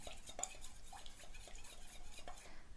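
Kung Pao chicken sauce being stirred in a bowl with a utensil, giving quick, light clinking and scraping taps in an irregular rhythm, close and fairly quiet, with no talking.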